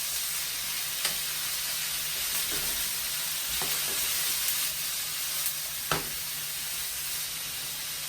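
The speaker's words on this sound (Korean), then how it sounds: "이 그린빈을 넣고 볶다가 마무리하겠습니다." Green beans and partly cooked meat stir-fry in a hot pan, giving a steady loud sizzle throughout with a few sharp clicks of a utensil against the pan.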